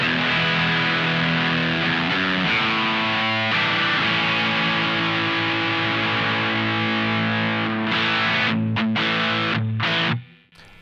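An electric guitar runs through a Menatone The King overdrive pedal, giving a loud, heavily saturated clipped tone as sustained chords ring continuously, then choppy stabs near the end before a sudden cutoff.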